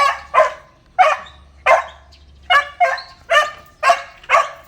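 A dog barks nine times in a steady rhythm, sharp and fairly close, with a low hum running underneath.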